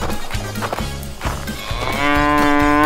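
A panicked cow moos loudly in an animal battle video game, giving several drawn-out, strained lowing calls one after another, close and alone with no talk.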